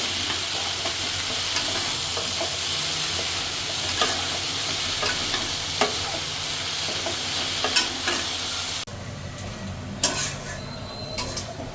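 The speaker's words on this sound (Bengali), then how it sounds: "সব কিছু মিশে একটু ভাজা ভাজা হয়ে যাবে সবজিটা" Vegetables with onion and green chili stir-frying in a pan: a continuous close sizzle broken by regular scraping and clicking strokes of the spatula, with the sizzle dropping quieter near the end.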